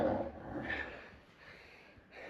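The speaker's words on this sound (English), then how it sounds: "Don't mind the heavy breathing." Heavy, labored breathing from a climber struggling with the altitude while hiking up near the rim of the Grand Canyon, a few close, breathy exhales and snorts that fade into quieter breaths.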